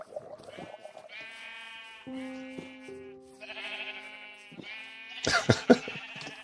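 Sheep in the Minecraft video game bleat repeatedly in short, clear calls, a few voices overlapping over several seconds, with sharp clattering game sounds near the end.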